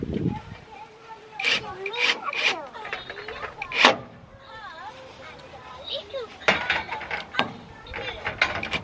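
Torx screws being driven to mount a solar motion light's bracket on a porch, heard as ratcheting, whirring mechanical bursts in several separate runs, with voices talking in between.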